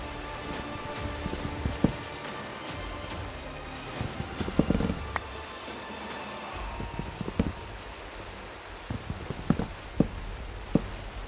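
Steady rain in the Minecraft modpack SkyFactory 3, a continuous patter of drops with scattered sharper clicks and faint low rumbling underneath, no voices.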